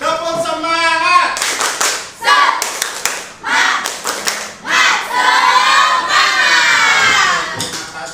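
Classroom group of students doing a rhythmic spirit clap led by a teacher, with loud bursts of clapping in a patterned beat mixed with shouting voices close by.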